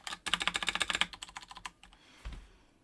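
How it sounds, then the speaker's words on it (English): Rapid typing on a used computer keyboard from a recycler haul, a dense run of clicky keystrokes for about a second, then a few sparser taps and a soft thump, close and alone. "Well, it's a keyboard."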